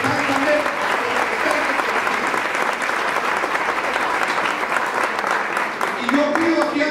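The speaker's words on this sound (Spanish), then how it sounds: "yo pido un aplauso, que fuera de un aplauso para la Junta Directiva de Santander." Audience applause at a Colombian teachers' union (FECODE) assembly in Socorro, a dense, steady wash of many hands clapping, loud and sustained throughout, with some voices mixed in.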